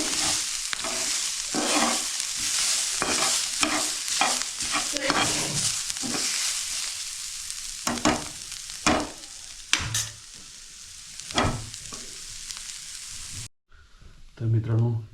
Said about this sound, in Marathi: कांदा भाजून झाला, आता खोबरं भाजून घेतो आहे बघा.